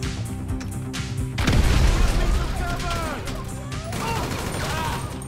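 A grenade explodes in the video game Grand Theft Auto 5 with a loud, heavy boom that rolls out and decays into rumbling debris and gunfire-like crackle, followed by lingering game noise.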